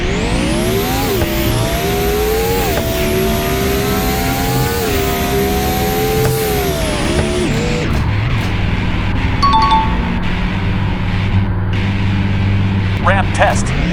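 A Chevrolet Silverado pickup in the Roblox game Car Dealership Tycoon revs hard with its engine pitch rising and dipping, then drops to a lower rumble while braking, with a few high squeaks near the end.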